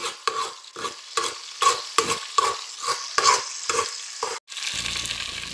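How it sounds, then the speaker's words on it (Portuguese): Potato purée mixture being stirred in a pot, soft rhythmic scraping strokes about twice a second, close and fairly quiet, ending with a brief pause and then faint background sizzle. "Eu vou misturar bem"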